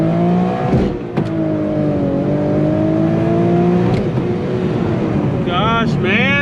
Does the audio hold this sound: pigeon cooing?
no